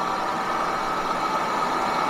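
A forage chopper's 775-horsepower V8 engine runs steadily after starting, a constant droning mechanical hum with no change in pitch or rhythm and no voices.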